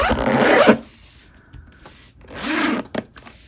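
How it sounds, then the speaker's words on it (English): A zipper is pulled twice in short, scratchy runs, with a quiet pause of faint handling noise between them, recorded up close. "And then we can zip it up,"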